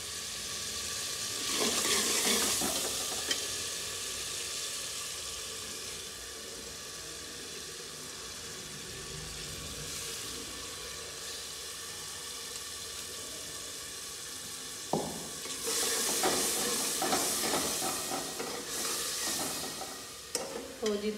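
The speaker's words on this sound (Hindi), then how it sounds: "दाल को ना तड़का लग रहा है" Continuous hiss and crackle of spices and garlic sizzling in hot oil for tempering lentils, with louder bursts of sputtering and stirring near the start and end.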